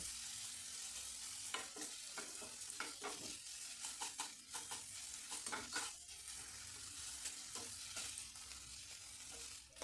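Pumpkin and other vegetables for a butter soup crackle steadily in a hot pan, with repeated stirring scrapes and sizzling bursts throughout, close and fairly quiet.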